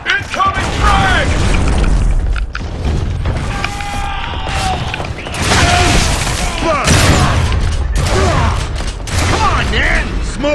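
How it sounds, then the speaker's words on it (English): A frag grenade blast in a multiplayer shooter game called Judgement, heard as loud booming explosions amid rapid gunfire and mechanical clatter, with a voice talking over the chaotic, continuous battle noise. "Incoming frag!"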